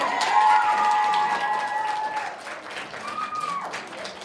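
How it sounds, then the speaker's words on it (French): A school audience at a secondary-school talent show in Quebec breaks into steady applause with a few cheers, loud at first and then gradually softening over about four seconds. "En applaudissements, s'il vous plaît."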